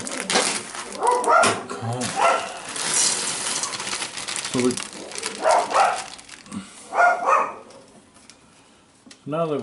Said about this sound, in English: you kind of figure out what the dogs are barking at, but you really try not to care